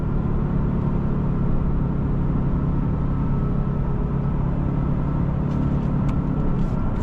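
A 2026 Genesis G70 3.3T in Sport Plus mode drives with a steady, loud engine and road rumble from inside the cabin, continuous with no talk.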